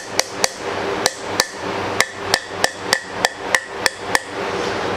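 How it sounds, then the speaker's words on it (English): A hammer taps a metal Jeep CJ Dana 30 axle part about a dozen times in an uneven rhythm, each strike sharp and ringing, close by, with no talking. "I'm going to see if I can just kind of tap down that side with the hammer."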